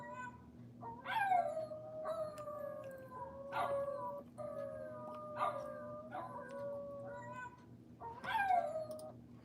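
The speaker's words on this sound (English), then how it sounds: "That's Shiba Inu dogs howling at the moon." Several Shiba Inu dogs howl together in long rising and falling wails, repeated in overlapping bursts over a steady low hum, fairly close and moderately loud with no talking.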